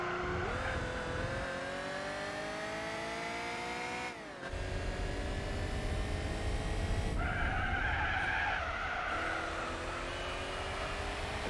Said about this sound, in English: The car is a Crossfire.